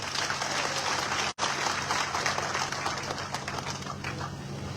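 Dense, sustained applause from a large audience at a political statue-unveiling ceremony for a martyred soldier, steady clapping throughout with one abrupt momentary dropout, no voices over it.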